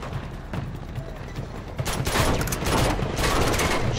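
Gunfire in Uncharted 2: Among Thieves on Crushing difficulty, mountain stage: a noisy, sustained barrage of overlapping shots that thickens in the second half, loud and continuous.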